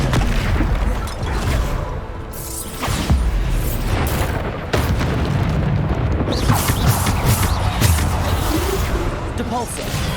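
Repeated Bombarda spell blasts in Hogwarts Legacy, loud booming bursts over busy combat noise, with a voice calling out spell names throughout.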